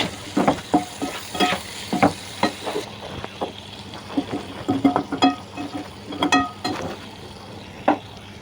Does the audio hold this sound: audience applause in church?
no